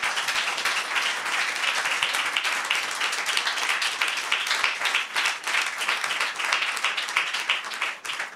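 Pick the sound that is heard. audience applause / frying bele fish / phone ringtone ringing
audience applause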